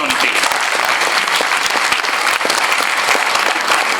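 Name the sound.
audience applauding at a convocation ceremony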